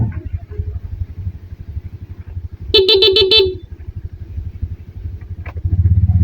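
A repaired Honda motorcycle engine idles close by with a steady pulsing putter, broken by a short loud horn toot midway and a few distant clanks.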